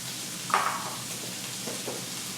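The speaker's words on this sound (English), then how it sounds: "Now, I'm going to go ahead and throw some onions in there, a little bit of celery" Onions and celery frying with bacon in a pan give off a soft, steady sizzle, with one brief louder burst as something hits the hot fat.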